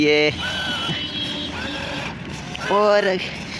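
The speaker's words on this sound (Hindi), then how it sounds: "ये ट्रैक्टर फुल कोशिश करा निकालने की, लेकिन क्या ही निकल पाएगी, इतनी फुल भर दी हमने ट्रॉली को" A tractor strains to pull a heavily overloaded trolley, its engine laboring in a loud, continuous rumble with harsh revving bursts at the start and end, mixed with surrounding noise.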